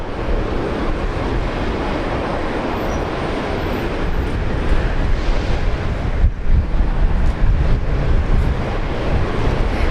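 A heavy jet arriving from Seoul lands on runway 19 left at Brisbane Airport, its engines giving a steady, loud broadband roar for ten seconds, with wind buffeting the microphone.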